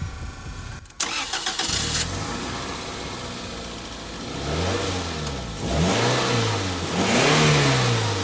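A Toyota MR2 with its stock exhaust cranks and fires up, settles into a loud steady idle, then gets several rising and falling revs, close and alone with no talk.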